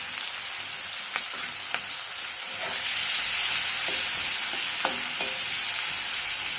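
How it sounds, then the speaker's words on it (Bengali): Onions frying in oil for a curry, a steady close sizzle and hiss with occasional scrapes and taps of a spoon as they are stirred. "একটু পেঁয়াজ একটু বেশি লাগিয়ে কষা করবো।"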